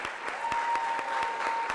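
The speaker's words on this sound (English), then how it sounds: "Can you please give a round of applause for my board?" A seated audience at a community meeting briefly applauds board members, a short burst of clapping with distinct individual claps close by and a faint steady tone beneath.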